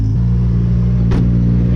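A rally car engine idles loud and close as it warms up, a steady low rumble with constant harmonics and one brief bright burst partway through.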